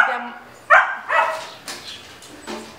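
A pet dog barking at home, several yips and barks spaced irregularly at moderate distance, the first loudest, then fading into softer whimpering calls.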